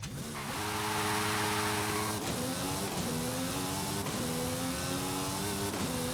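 In Forza Horizon 5, a car engine drones loudly and steadily, rising in pitch, then revs through several gear shifts with brief dips between climbs, close and continuous with no voices.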